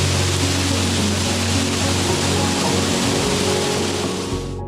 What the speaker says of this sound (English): It's like our own private natural hot tub with a waterfall.